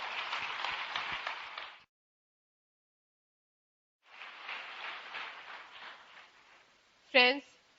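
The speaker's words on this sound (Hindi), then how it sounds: "तो एक बार जबरदस्त तालियों के साथ फिर से स्वागत करेंगे" Audience applause welcoming a speaker onto the stage at an Amway network marketing event: two sustained bursts of clapping separated by a silent gap, ending with a brief voice.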